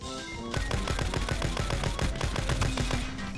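Rapid automatic gunfire in a first-person shooter, a steady loud burst of bullets starting abruptly after a brief quiet moment and continuing without pause.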